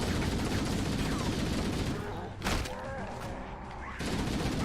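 Sustained automatic gunfire in Halo Combat Evolved Anniversary rattles on loud and dense, dipping briefly around a punch-like impact before the shooting resumes, with a voice talking over it.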